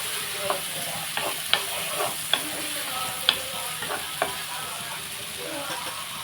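Fish and mango curry in a pan, stirred with a spoon that makes several sharp metallic taps and scrapes over a steady low sizzle.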